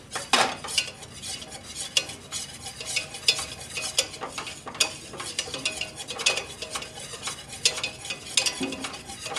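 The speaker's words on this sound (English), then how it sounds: "We want to whisk it constantly because what's going to happen is that if we don't, the roux can burn." A whisk scrapes and clatters quickly and constantly against a pan as a flour roux cooks, with faint sizzling underneath, a busy near rhythm and no talking.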